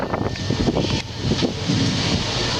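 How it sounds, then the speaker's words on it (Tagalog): Strong wind gusting across a microphone at an outdoor religious gathering in Parañaque, heavy buffeting rumble rising and falling in waves, loud and close, with no voices over it. "lumalakas ang hangin"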